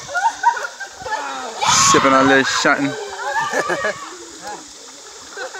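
Creek water splashes in bursts as people wrestle in a chicken fight in the water, with shouting, laughter and talk over the churning.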